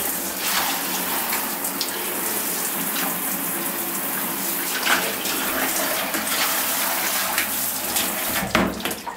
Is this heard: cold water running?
yes